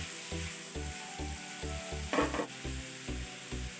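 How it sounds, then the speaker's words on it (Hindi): Mutton liver fries on a tawa with a steady sizzle, while a rhythmic series of scraping stirs repeats close by, one louder spatter bursting up midway. "कलेजी फ्राई हो चुकी है तकरीबन"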